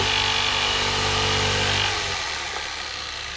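Power saw cutting curves in a plywood subfloor around a van's wheel well, a loud buzzing whine that runs steadily and then tapers off partway through, close by and alone.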